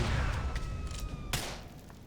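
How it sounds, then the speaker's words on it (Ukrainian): A loud gunshot cracks out near the end, sharp and sudden, after a stretch of dense rumbling noise, in the video game Grand Theft Auto IV. "Коротше, з вулиці стріляємо."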